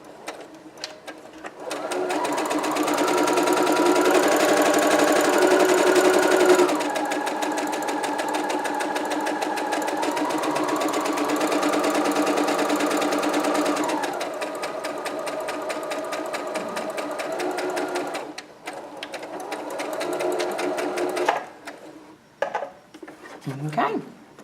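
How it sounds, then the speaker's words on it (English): A sewing machine stitches a curved fabric sample, a loud close rapid mechanical whirring that runs in several long bursts with brief pitch changes between them, ending in a few scattered clicks. "when you're sewing your curve sample, it really doesn't matter which end you start from"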